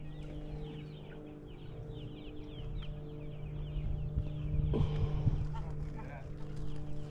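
Heritage-breed chickens, roosters among them, cluck and call in a busy chorus over a steady low hum, with faint voices in the background.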